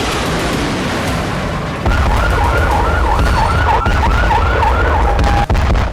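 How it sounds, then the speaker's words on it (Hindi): Wailing air raid sirens sound in Israel during a rocket barrage, a loud rising-and-falling tone cycling steadily over constant background noise for most of the stretch. "लेकिन 23 नवंबर की शाम को ही इजराइल में सायरन गूंजने लगे।"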